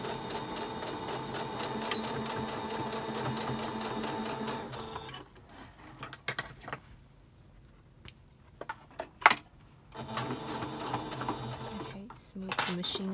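Sewing machine stitching fabric for a face mask, a steady close rhythmic whir that stops midway while handling noises and talk follow, then resumes near the end.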